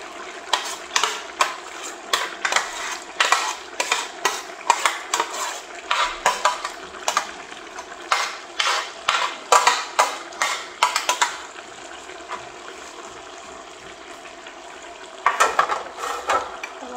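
Tomatoes, mint and green chilies for biryani get stirred into a pot with a spoon, giving steady rhythmic scraping and clinking strokes over a soft background hiss, close up with no talking.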